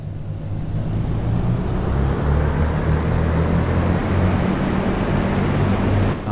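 Warbird propeller engines, the same type fitted to Spitfires, run steadily in a DCS flight simulator, giving a loud, continuous droning roar with a low pulsing throb that holds level throughout.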